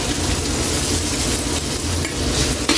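Chopped onion hits hot oil in a pan while cooking creamy chicken with kangkong, giving a loud continuous sizzle with stirring scrapes and a faint clink near the end.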